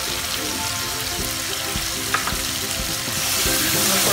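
Tomato sautéing with red chili powder for spicy misal sizzles steadily in the pan, with scattered stirring knocks, and the frying swells slightly louder toward the end.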